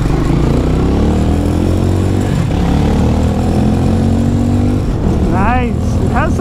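A Harley-Davidson X440 single-cylinder engine revs up and pulls through the gears, loud and close from the rider's position, steady drone with rising pitch sweeps, a brief shift dip, and a few high squeaky chirps near the end.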